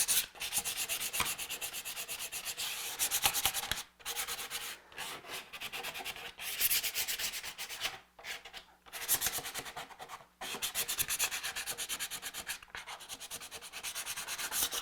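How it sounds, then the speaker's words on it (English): Continuous hand sanding on a Ford Bronco part, rhythmic back-and-forth rubbing strokes close to the mic with a few brief pauses between passes, no voices. "I'll probably do a little bit more finishing after, or sanding I should say"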